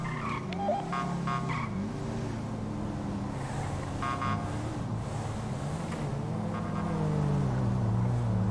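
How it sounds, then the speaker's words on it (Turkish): A 550-horsepower car drifts in GTA 5, its engine revving loudly with sweeping rises and falls in pitch while tires skid and squeal in a continuous, close stretch with no talking. "Hayvan herif bir de drift yapıyor."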